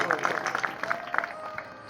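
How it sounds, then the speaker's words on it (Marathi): Audience applause at a bharud devotional performance in Pandharpur: a steady wash of many hands clapping, with uneven bursts through the whole stretch and a voice mixed in. "जोरदार टाळ्या तुमच्यासाठी तुम्ही वाजवा"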